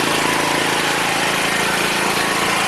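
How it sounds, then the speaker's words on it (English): A tri-fuel generator running on natural gas inside a sound-dampening enclosure, giving a steady, even engine drone with a constant low hum and no pauses or changes in load. "Once we got that kind of figured out, it's running well."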